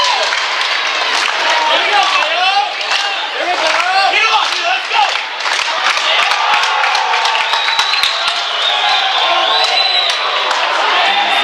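Crowd at an indoor track and field championship clapping along for an athlete, a dense ongoing mass of claps and cheers from a large arena audience, with an announcer talking over it.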